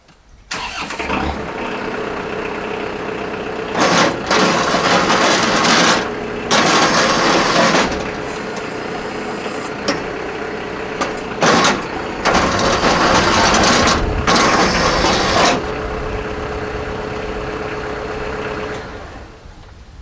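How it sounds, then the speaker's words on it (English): Tractor engine cranks and fires, then idles in a loud, close, steady rumble, with several surges of bright mechanical noise as it runs and no one speaking. "let me start the tractor."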